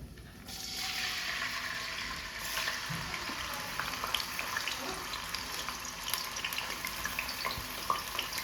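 Chopped onion pieces hitting hot oil with cumin in a pan, sizzling steadily for several seconds as a broad, continuous frying hiss with faint crackles, fairly close and with no voice over it.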